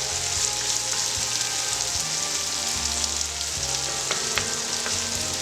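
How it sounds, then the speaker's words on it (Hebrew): Plov ingredients fry in a pot with a dense, steady sizzle and crackle while occasional stirring scrapes sound close by, with no talk. "אני לא רוצה בישול עדיין, אני רוצה טיגון. זה בדיוק מה שמתרחש בתוך הסיר."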